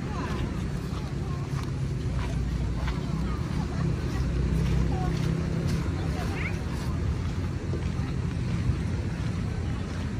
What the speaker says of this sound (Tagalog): Tapos bigla ding lumakas yung hangin.